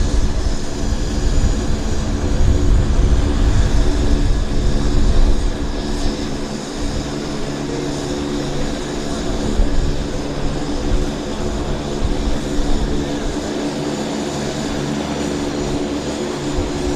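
A JAL Boeing 757 at windy Vancouver Airport produces a loud, sustained engine drone with a steady low rumble and tonal hum, continuing without break under gusting wind.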